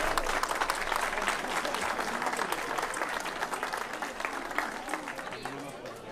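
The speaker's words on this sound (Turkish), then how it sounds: "Alkışlıyoruz damat beyi." An enthusiastic wedding crowd claps continuously, dense and lively applause filling the room with a few voices mixed in.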